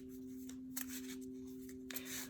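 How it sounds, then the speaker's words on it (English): Tarot cards are shuffled in short bursts, quick papery riffles and slaps close by, over a quiet steady electrical hum. "I'm going to keep shuffling here."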